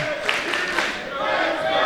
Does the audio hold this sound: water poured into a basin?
no